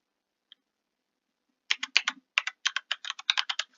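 Quiet, close keystrokes on a computer keyboard as a password is entered at a sign-in screen: one isolated tap, then a quick run of about a dozen evenly paced clicks, no talking.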